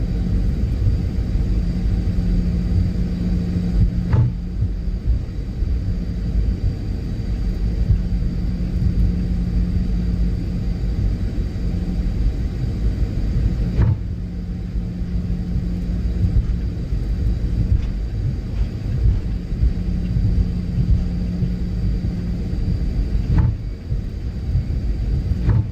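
A Boeing 737-800 cargo jet taxiing in the PMDG flight simulator, its engines giving a loud, steady low rumble and hum that never lets up, broken only by a few faint clicks.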